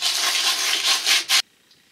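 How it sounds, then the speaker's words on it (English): Sandpaper rubbing the bottom of a copper heat sink to flatten it, heard as a close, loud, steady scraping stroke followed by a couple of shorter rubs that stop abruptly. "So to get it flat, we're going to sand the bottom down."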